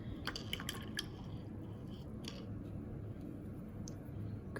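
A paintbrush swished and rinsed in a water jar during a painting session, soft drips and squishy clicks clustered early, then quieter sloshing, fairly close, no talking.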